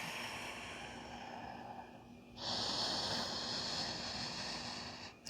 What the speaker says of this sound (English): Breathe deeply.